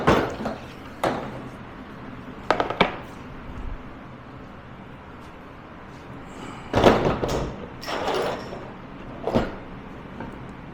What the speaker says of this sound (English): now we're going to grab the doors and start putting the hinges on them